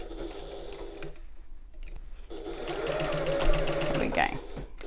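Up close, a sewing machine stitches a tote bag seam, tapering to a smaller seam allowance. It whirs in two runs separated by a brief pause, with a voice talking over it.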